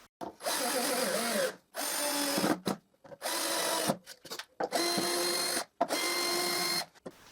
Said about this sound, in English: I screw the marquetry piece.